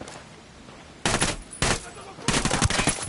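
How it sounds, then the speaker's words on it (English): Heavy automatic gunfire from a shooter game set in Ghost Recon Wildlands, three loud sustained bursts of rapid shots separated by short pauses, close and dominant with no talk over it. "Opening fire on these fuckers."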